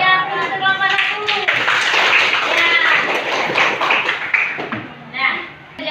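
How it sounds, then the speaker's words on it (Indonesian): A junior high school maths class applauds a student group with a burst of many hands clapping for several seconds, mixed with voices at the start and fading out near the end. "kita beri aplaus untuk kelompok 1"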